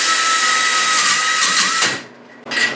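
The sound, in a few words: rotary tool with burr bit on metal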